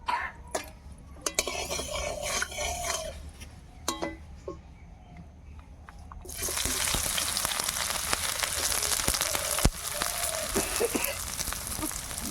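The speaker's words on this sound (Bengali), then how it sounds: "তেল দিয়ে পেঁয়াজ আর কাঁচা লঙ্কাটা ভেজে নেব" Onion and green chilies frying in oil in a kadai, a light crackle at first that swells into a steady, loud sizzle with occasional clinks and stirring.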